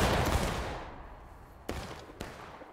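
Rifle volley in War of Right, an 1862-era Civil War river crossing battle: a loud rolling burst of massed musket fire fades out, followed by two sharp, separate single shots.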